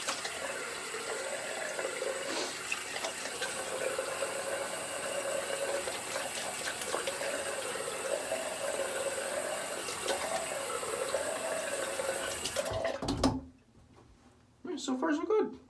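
Tap water runs steadily for a quick rinse of a shaving razor at a sink, a close, even splash lasting most of the moment before cutting off, followed by a brief clatter.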